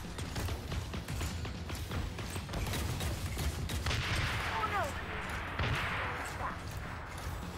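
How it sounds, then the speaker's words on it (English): Ion rifle and homing rifle fire in a video game battle near a bridge and hill, a steady clatter of shots and whooshing projectiles under continuous combat noise, with a rising whine midway. "There was an ion rifle being shot at us from somewhere, I think."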